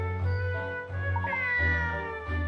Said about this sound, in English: Oh, a little cat! It looks like a stray.